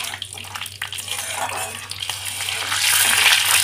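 Black cumin seeds (nigella) crackle and sizzle in hot oil with whole clove and small cardamom while an egg curry masala is prepared, a steady close hiss that swells louder toward the end.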